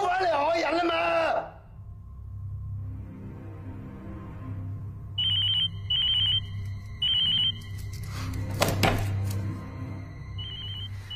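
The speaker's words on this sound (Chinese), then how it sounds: "我听你嘅电话" A telephone rings in short bursts, four rings spaced about a second apart over a low background hum, with a voice speaking at the start and a brief clatter in between.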